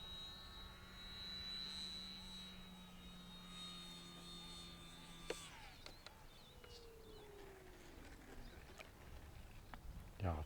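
Small Eachine Airloader 1280mm RC bush plane on a 4-cell battery, its electric motor whining steadily, then dropping in pitch as it throttles down and glides in to land on a field, with a few bumps near the end.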